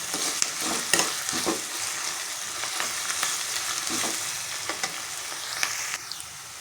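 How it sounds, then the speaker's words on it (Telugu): Onions fry with curry leaves in a hot pan for an egg curry, making a continuous close crackling sizzle broken by repeated scraping stirs of a spoon, with no voices. "మనం ఇప్పుడు ఉల్లిపాయలను బాగా ఫ్రై అవుతాం."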